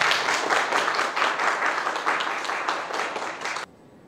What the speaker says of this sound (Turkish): Lütfen bir alkış alın çiftimize.